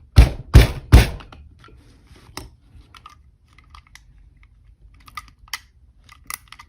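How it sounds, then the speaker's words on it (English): Screwdriver bumping the back of a plastic part while a T880 is taken apart: three sharp, loud knocks close together at the start, then a scatter of fainter light clicks and taps. "you can take your screwdriver and just bump the back of that plastic"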